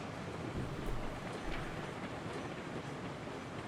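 Freight train rolling along track in the simulation game Railroads Online, a steady broadband rumble with faint rhythmic clatter throughout, no talking.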